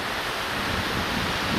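Sea waves wash onto a beach at dawn, a steady broadband rush of surf with some wind noise on the microphone and no voices.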